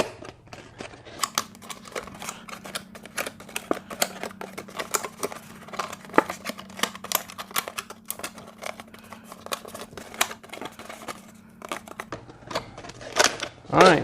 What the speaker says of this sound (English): If there's any like this, you can actually just cut those off.